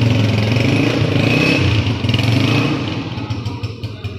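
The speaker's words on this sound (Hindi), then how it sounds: "ये जी बाइक का साउंड" A Honda CG 125 motorcycle engine runs steadily, loud and close, with a fast regular thrum, then eases slightly in level toward the end; no talking.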